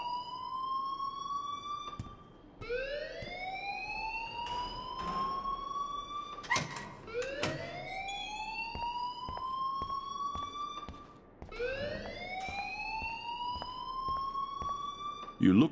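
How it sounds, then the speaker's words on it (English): A repeating electronic siren-like alarm wails in the video game Life Is Strange, rising sweeps recurring every few seconds with clicks and faint background voices underneath. "please turn off that alarm since that's your job"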